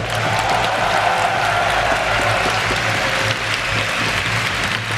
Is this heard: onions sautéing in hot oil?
no